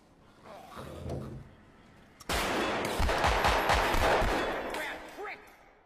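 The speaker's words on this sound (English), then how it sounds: "However, Colin shoots him first." A gunshot in a crime film scene about police and mafia moles, with one sudden sharp crack after a quieter opening, then a loud, dense wash of noise that carries on to the end.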